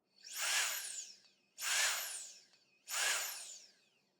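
Three loud, whooshing bursts of a Zezzofan electric compressed air duster blowing at its maximum setting, each lasting about a second with short pauses between, close and alone.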